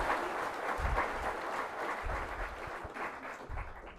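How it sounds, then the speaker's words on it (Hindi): A crowd at a YouTube creators summit event breaks into hearty applause, a dense, continuous wash of many hands clapping that swells early and then tapers slightly toward the end. "तो ये जोरदार तालियां इनके लिए एक बार"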